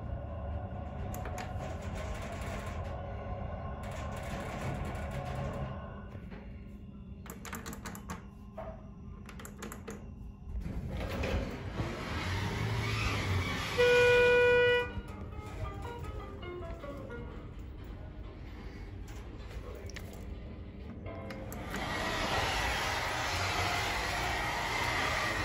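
A 2008 Schindler hydraulic elevator at a Barnes & Noble store runs its motor, a low steady hum with a brief louder whine midway, amid faint mechanical clicks and store ambience.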